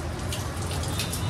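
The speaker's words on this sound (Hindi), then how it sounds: "पीने के पानी से धोया जा रहा है और सब आसपास पूरा सब गीला किया जा रहा है" Drinking water runs and splashes over corn being washed in a home kitchen, a steady close spatter with a few brighter drips, without voices.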